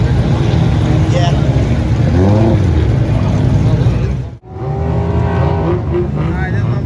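At the Fuelfest Dallas car show, a car launches hard with a loud roaring engine and rising revs, briefly cutting out before surging again, amid crowd chatter and voices close by.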